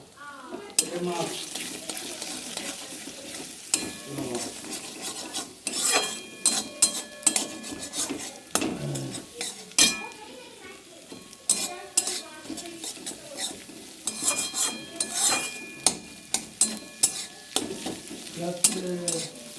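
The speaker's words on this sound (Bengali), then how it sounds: "একটু নাড়াচাড়া করে নেব।" A utensil scrapes and taps repeatedly in a pan while egg fries with fried onions, sizzling steadily, close and fairly loud, with irregular clinks throughout.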